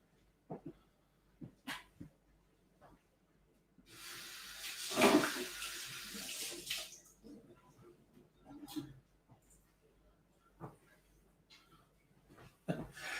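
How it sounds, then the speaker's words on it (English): Running tap water rinses a bartender's jigger, a clear hiss of flowing water lasting a few seconds, surrounded by scattered clinks and knocks in a quiet room. "I'm just going to rinse my jigger."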